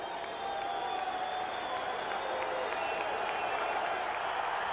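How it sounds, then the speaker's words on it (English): A home crowd of Atlanta Falcons fans at a December 2001 NFL game against the Buffalo Bills roars steadily on third down, a broad distant stadium swell that holds without a break. "First time we've heard this Falcon crowd get a little vocal on 3rd down and 4"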